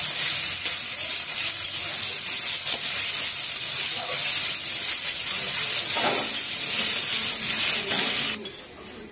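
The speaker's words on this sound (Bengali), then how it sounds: "যে ছোটো ছোটোগুলো আলুগুলো কেটে রেখেছিলাম, সেগুলো আমি একটু হালকা করে ভেজে নেব" Small potato pieces frying in mustard oil in a home kitchen, a loud continuous sizzle and hiss close by that drops off abruptly near the end.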